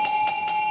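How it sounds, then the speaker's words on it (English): A hand bell rung at a party gives a bright, sustained metallic ring with three quick pulses of strikes, close and fairly loud, with no voices over it. "we'll go ahead and ring the bell and wake those that are sleeping"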